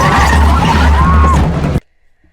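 Tires skid and screech loudly during a car chase in the film Grindhouse, with a long squeal over a roaring engine that cuts off abruptly into silence.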